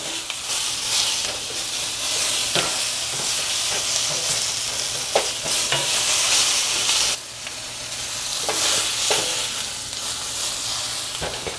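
Steady, close sizzling and crackling of vegetables roasting on a grill over high heat, with occasional louder pops and scraping, continuous throughout without any talking.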